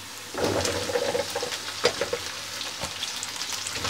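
Okra fries with browned onions in a pan, a close crackling sizzle rising sharply as it starts, with scattered pops and stirring scrapes.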